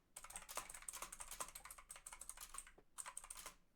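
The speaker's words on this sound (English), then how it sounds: "I can hear you typing" Rapid keyboard typing, close and steady, with a brief pause near the end before the clatter resumes; no voices.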